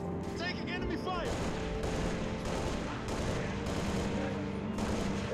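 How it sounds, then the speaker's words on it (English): Enemy gunfire in Halo Reach, volleys of automatic weapon shots in repeated bursts at a steady pace, loud and mixed with battle noise, while a voice speaks over the firing. "Taking enemy fire."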